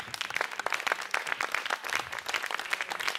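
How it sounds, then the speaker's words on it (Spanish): A studio audience claps on the Spanish-language TV show El Valor de la Verdad. The applause is brisk and continuous for about three seconds, with no talking over it. "Qué suave, tuve ese aplauso."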